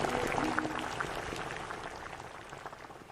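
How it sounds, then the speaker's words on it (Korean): Ramen noodles boiling in a pot, giving a soft, dense bubbling and simmering hiss that runs steadily for a few seconds, fairly quiet and close, with no voices. "보글보글 라면 끓는 소리와 함께"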